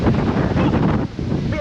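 Strong wind with rain starting buffets the microphone in loud, roaring gusts on Mount Tamalpais, Marin County, with a brief dip before the blustering resumes.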